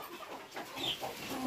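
Young chicks on a poultry farm chirping and clucking, with several short bright calls scattered through a constant farmyard background murmur at moderate distance.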